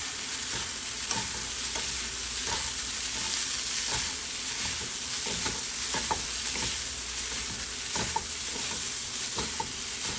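Seasoned taco meat being stirred through sauce in a frying pan, with a steady close sizzle and repeated scraping strokes of the spoon throughout.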